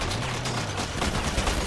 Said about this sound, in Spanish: tiran tiros de manera errática